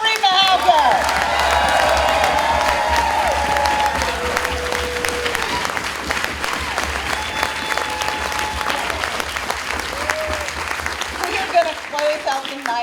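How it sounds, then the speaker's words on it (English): An audience at a bawdy storytelling show breaks into loud, sustained applause with scattered cheers, while a host speaks over the clapping. "Give it up again for Reid Mihalko"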